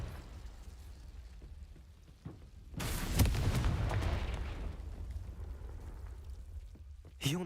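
A Confringo explosion spell goes off in Hogwarts Legacy, a sudden loud blast followed by a long crackling, rumbling roar that slowly tapers into quieter ambience.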